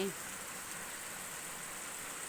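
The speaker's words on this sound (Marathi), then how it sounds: "पाऊसच पाऊस आहे खूप जबरदस्त पाऊस आहे" Steady, even rain hisses softly in the distance, a constant wash of falling water with no other sounds.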